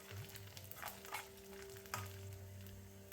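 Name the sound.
garlic and whole spices stirred while frying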